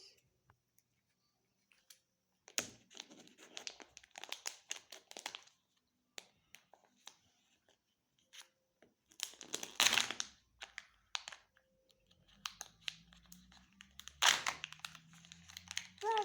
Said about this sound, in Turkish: Ve şimdi son paketimizi açıyoruz arkadaşlar.